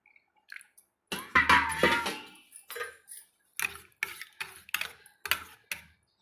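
A spoon scrapes and knocks around inside a pot in short, irregular bursts with quiet gaps, stirring rice-water porridge close by.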